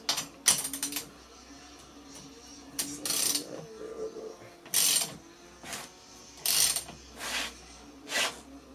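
A hand ratchet clicks in short repeated bursts while working on a BMW M54B30 engine, close and fairly quiet, with pauses between strokes.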